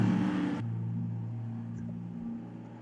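Race cars in NASCAR Racing 2003 during the Toyota Owners 400 give a steady droning engine hum with a sharp cut partway through, then a lower continuous motor tone that fades slowly.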